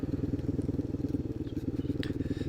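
Honda Grom clone motorcycle fitted with a ZS-190 engine, riding along on a twisting road, its single-cylinder exhaust a steady, loud, close pulsing thrum throughout.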